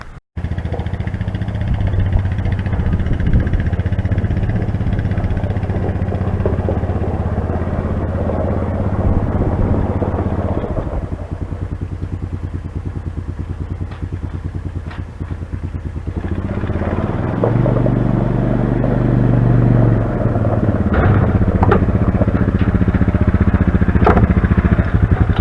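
A Honda Foreman 450 ATV engine running with a steady motor drone that dips briefly midway then climbs again, close and continuous with faint clattering.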